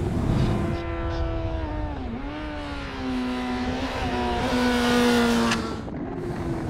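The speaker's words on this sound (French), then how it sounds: "ça fait du bien un moteur qui allonge" A four-cylinder 600 roadster motorcycle engine revs out hard, its pitch climbing through the gears with a brief dip before rising again, loud and close, with no talking.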